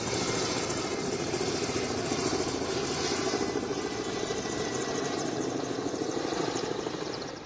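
A helicopter drops foam over a chemical plant fire, its engine and rotor making a loud, continuous drone with a fast, steady chop that holds unchanged throughout and eases slightly at the end.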